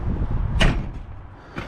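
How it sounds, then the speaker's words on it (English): Cab door of a JCB 409 wheel loader swung shut with one loud, close thud, followed by a lighter click of the latch locking about a second later, over a steady low engine rumble. "lock the door"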